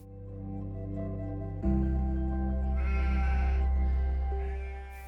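Sheep bleat in a farm setting, steady drawn-out calls with a louder, harsher bleat rising midway, close and continuous with no voices.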